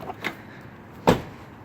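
Car doors on a Blazer being repaired with new doors and fender give two soft latch clicks, then a sharper, louder clunk about a second later, close by in a quiet space.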